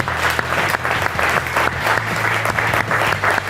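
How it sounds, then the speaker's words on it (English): Full audience applause at the close of a 2018 talk on building company culture, loud and continuous clapping from a large crowd filling the whole stretch. "I genuinely, from my heart, would like for everyone to just clap"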